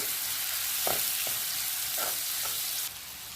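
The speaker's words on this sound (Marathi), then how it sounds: "एक मोठा कांदा घेतलेला आहे मी मिक्स करून घेऊ" Chopped onion fries in a pan with a steady broadband sizzle, broken by a few short scraping stirs near the start and middle.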